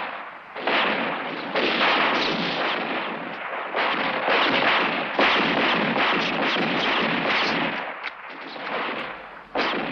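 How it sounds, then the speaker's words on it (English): Rapid gunfire from a gun being fired in a 1977 crime action film, a dense, loud string of overlapping shots in bursts that nearly fill the whole stretch with only brief gaps. "Where did you learn to shoot like that?"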